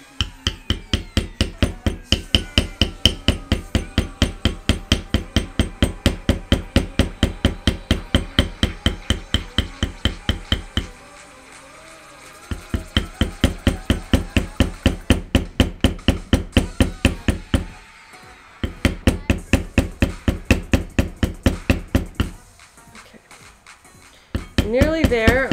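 Mallet striking a leather beveling tool while tooling leather armor pieces, a fast, even run of close, sharp taps repeated in long bursts with brief pauses between them.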